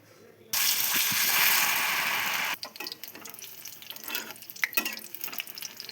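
A pitha rice cake drops into hot frying oil with a sudden loud hiss that holds steady for a couple of seconds, then settles into softer crackling and sizzling.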